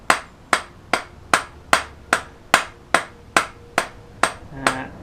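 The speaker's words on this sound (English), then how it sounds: "I don't know if this hammer's going to do these bolt holes, but give it a try." Eleven sharp, evenly spaced hammer taps cutting bolt holes in gasket paper for a 1988 Classic Mini ring out close up, each decaying quickly, with the last one sounding slightly duller.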